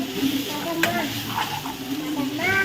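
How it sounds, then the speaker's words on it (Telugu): Capsicum fries in oil with a steady close sizzle and occasional stirring scrapes, while faint voices and tonal background sounds run underneath. "ఇది కొద్దిసేపు అయితే నూనెలో మగ్గించుకోవాలి"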